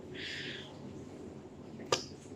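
A single sharp finger snap near the end, crisp and close, after a quiet stretch with a faint hiss.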